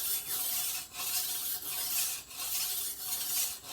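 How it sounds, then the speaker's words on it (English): A file rasps along a machete blade on a Costa Rica fruit farm, a moderate rhythmic series of scraping strokes repeating roughly every two-thirds of a second with brief pauses between them. "sharpening machetes, or should I say swords?"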